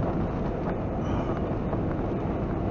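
Freight train hauling tank cars through a canyon, a steady low rumble of rolling wheels with faint clatter, fairly loud and constant, with no voices.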